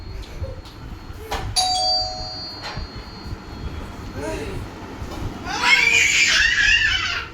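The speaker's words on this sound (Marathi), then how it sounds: "अरे बेल वाजली, जा लवकर दरवाजा खोल" A doorbell chimes a few times early on, bright electronic tones, followed by background noise and a burst of high-pitched shrieking toward the end.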